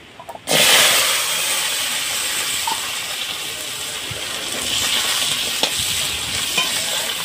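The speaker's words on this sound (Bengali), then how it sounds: "সর্ষেটা ভাজা হয়ে গেছে, এখন আমি আমড়াটা কষিয়ে নেব।" Hog plums frying in a pan with mustard seeds and dried chillies, a loud continuous sizzle and hiss that jumps up suddenly as they hit the hot oil, with occasional stirring scrapes.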